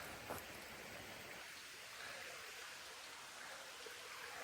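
Steady rushing of stream water flowing nearby under a new footbridge on the Appalachian Trail, a continuous broadband wash with no voices.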